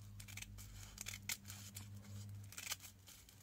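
Scissors cutting strips of material for a broom banner, a series of quiet, close snips in an uneven rhythm over a low background hum.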